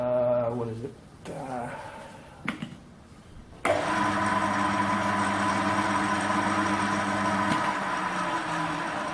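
A lathe spins a workpiece during a grinding job, giving a loud, steady mechanical hum with a sustained pitched tone. It starts after a few seconds of quieter, uneven machine sounds, and the pitch drops partway through.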